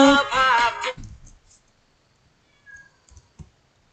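A house cat lets out a clear, close, loud meow at the start, followed by quiet stretches with soft faint clicks and taps.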